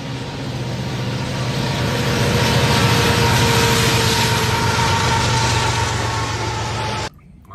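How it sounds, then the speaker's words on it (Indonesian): A train rumbles by in a steady, loud roar with a low mechanical drone, then cuts off abruptly near the end. "ada kereta api atau train"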